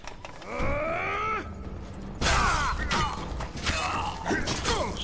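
A door creaks open in The Witcher 2, a long drawn-out groaning creak with rising and falling pitch repeated in several strained bursts, loud and close amid game ambience.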